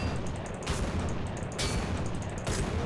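Semi-automatic shots fired at a barrel in Men of War: Assault Squad 2, with several sharp reports spaced about a second apart over steady background noise.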